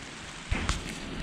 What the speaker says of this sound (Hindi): ऊपर लगा हुआ है कवर और बारिश ज़्यादा नहीं हो जाए बस